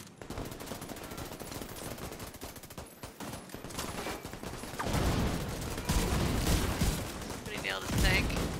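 Gunfire in the video game The Division 2 during a four-player session, rapid automatic bursts and repeated shots throughout, growing louder and denser in the second half, with players' voices mixed in.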